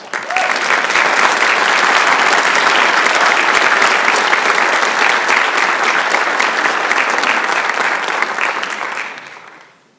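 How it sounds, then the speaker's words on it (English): An audience at a high school senior honors night claps in a sustained, loud round of applause that holds steady for several seconds before tapering off at the end. "One more round of applause."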